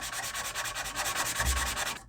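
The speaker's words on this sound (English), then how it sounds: "just keep block sanding until it smooths out" Steady rhythmic block-sanding strokes rasp back and forth across an RC car body, close and continuous, with no voices.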